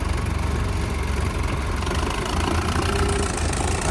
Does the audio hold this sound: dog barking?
no